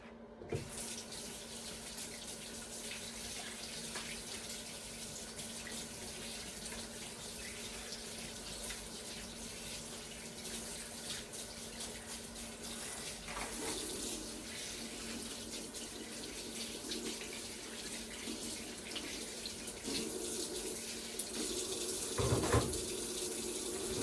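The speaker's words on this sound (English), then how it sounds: "Give my hands a quick wash." Tap water runs steadily into a sink during a hand wash, a constant close splashing flow with brief clatters near the end and no talking.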